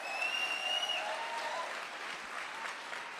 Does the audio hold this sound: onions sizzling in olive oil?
no